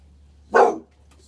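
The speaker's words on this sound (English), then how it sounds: "And I got a dog here chiming in." A single dog bark, short and fairly close, stands out against a quiet background with a low hum.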